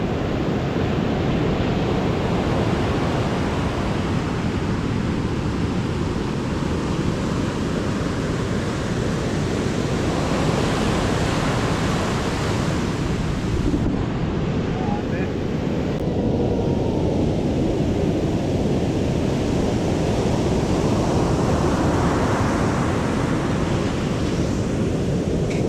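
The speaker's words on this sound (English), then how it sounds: "The mighty Atlantic Ocean." Atlantic Ocean surf breaking on the Skeleton Coast, a loud continuous roar of waves mixed with strong wind buffeting the microphone, slowly swelling and easing with no voices.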